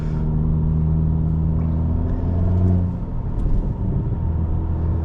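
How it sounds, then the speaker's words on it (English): A 2023 Honda Civic Touring with a CVT and a custom shop-built muffler drones with a steady low exhaust rumble, swelling briefly as it pulls, then settling back to an even cruise. "It's a complete custom muffler done at a small mom and pop shop."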